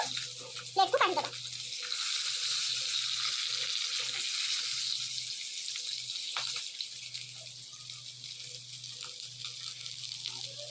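Fish fries crisp in a pan with a steady, moderately loud sizzle that runs throughout, broken briefly by a few clatters near the start.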